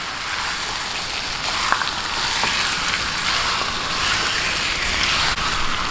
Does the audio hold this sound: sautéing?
yes